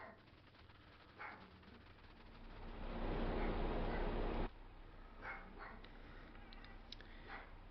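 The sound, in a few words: Chihuahua barking in the background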